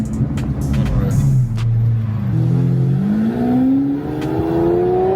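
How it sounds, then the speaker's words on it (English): A Lamborghini SVJ accelerating through a curve, heard from inside as a loud, close engine drone whose tone climbs steadily as it revs up. "We're in the Lambo and we're going on the curve."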